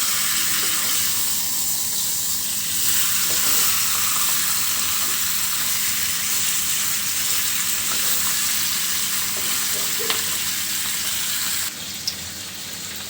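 Fish frying in a pan as the pieces are flipped, giving a steady, fairly loud hiss that runs the whole time with small scraping knocks and no voices.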